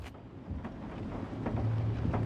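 Rain and distant thunder in the horror video game The Joy of Creation form a constant hiss with low rumbling swells that build slightly toward the end, heard alone.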